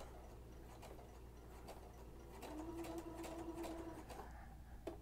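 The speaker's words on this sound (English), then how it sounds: "Do a couple back stitches." A sewing machine fitted with a zipper foot runs a short burst of back stitches, its needle ticking rapidly and mechanically up close, with a low motor hum starting midway and no talking.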